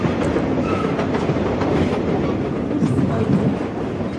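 Trans-Siberian train rolling along the rails, a steady dense rumble with faint rhythmic clickety-clack of wheels over joints throughout, close and continuous.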